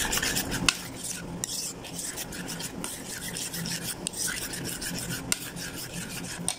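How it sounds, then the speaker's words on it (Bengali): Spiced yogurt raita is worked together on a grinding stone, giving a continuous rough scraping and rubbing with occasional sharp clicks, close and steady without talk. "দিয়ে এখন ভালো করে মিশিয়ে নেব"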